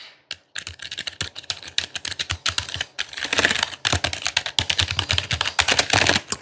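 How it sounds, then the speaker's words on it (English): Steady, fast typing on a SteelSeries Apex 3 RGB gaming keyboard fitted with quiet keycaps, dense soft key clacks close to the microphone, with no talking. "It comes with whisper quiet keycaps, which, by the way, I have to say that are really quiet."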